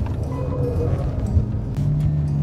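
A 2019 Mitsubishi Eclipse Cross engine gives off a low, steady rumble from inside the moving car, with a soft, constant hum of road noise.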